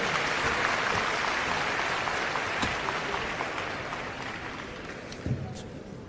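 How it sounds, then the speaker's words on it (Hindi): Audience applause welcoming a speaker at a Delhi Government environment conference on World Environment Day: a steady, dense wash of clapping from a large crowd that holds for several seconds and slowly thins toward the end. "आप सभी की तालियों की गड़गड़ाहट के साथ उनका स्वागत करेंगे"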